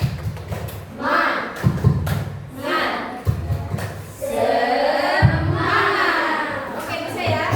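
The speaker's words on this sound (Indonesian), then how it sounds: "Ibu ada tepuk semangat namanya" A group in a hot midday training session performs a rhythmic clapping chant, with sharp clustered claps and thumps in a patterned beat mixed with shouted voices, growing into a louder crowd burst near the end.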